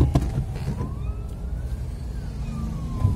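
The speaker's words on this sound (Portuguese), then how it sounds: "Agora tá vindo, não sei se é polícia ou se é ambulância." A police or ambulance siren wails faintly in the distance with slow rising and falling sweeps, set against steady road rumble on the Via Anchieta down the Serra do Mar.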